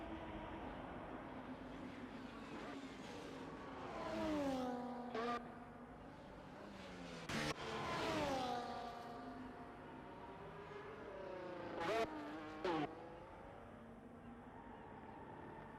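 Formula 1 cars in a racing video game at Abu Dhabi, engines revving up and down through gear changes with several sharp upshift bursts, a moderately loud single car lapping with no talk.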